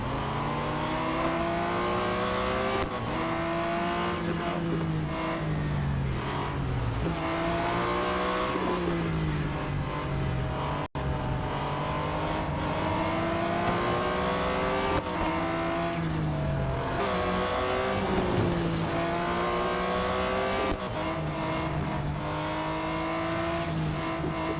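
Race car engines in the mobile game Real Racing 3 roaring without a break through a full lap, the pitch repeatedly climbing and dropping through gear changes, with occasional tire squeals. No voices are heard.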